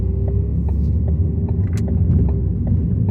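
A car engine rumbles steadily from inside the moving vehicle, a loud, continuous low drone with faint regular ticks over it and no talking.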